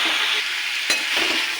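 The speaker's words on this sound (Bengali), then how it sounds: "আর দেবো কাঁচা লঙ্কা চেরা আর টমেটো কুচি। এটাকে একটু ভালো করে ভাজবো।" Green chillies and chopped tomato frying in a hot pan, a loud steady hiss with one brief knock of a utensil partway through, close-up and without talk.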